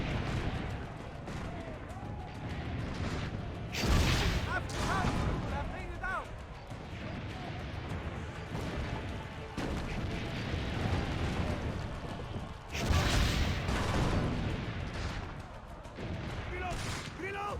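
Cannon fire in the video game Assassin's Creed Brotherhood, with heavy booming blasts around the 4 and 13 second marks amid continuous battle noise, crashes and shouting voices, under game character speech.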